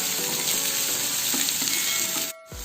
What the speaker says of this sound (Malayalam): ഇനി ഇതിലേക്ക് 2 സവോള ചേർക്കാം. നന്നായിട്ട് വഴറ്റിയെടുക്കാം.